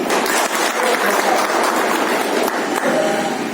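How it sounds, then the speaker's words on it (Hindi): Loud, sustained applause from a gathering honoring ex-servicemen at an Assam Rifles event, a thick wash of clapping with a few sharper individual claps standing out. "एक बार उनके लिए जोरदार तालियां।"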